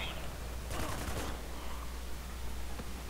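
Gunfire in a firefight from the video game Spec Ops: The Line: a dense burst of rapid automatic shots lasting about half a second, set against constant background game noise.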